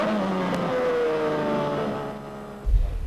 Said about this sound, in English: now accelerating again. Second gear, third gear, fourth gear, fifth gear